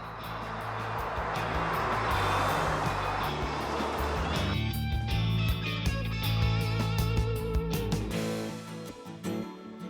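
Chevrolet Corvette ZR1 engine droning steadily while driven, loud and continuous with rising intensity and a busy mechanical texture, fading slightly toward the end.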